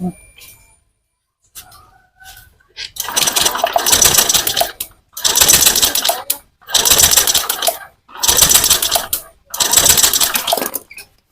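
A Honda Vario 150 scooter engine is started with its starter and revved in five loud, even bursts of roughly a second and a half each, separated by short pauses, after faint quieter sounds at the start.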